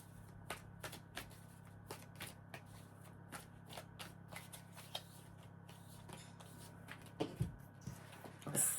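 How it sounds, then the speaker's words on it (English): Tarot cards being shuffled during a weekly astrology reading, a quiet run of crisp riffling snaps and soft card flutters, close and faint, ending in a few louder handling knocks with no talk. "I'm going to shuffle these cards a little bit more."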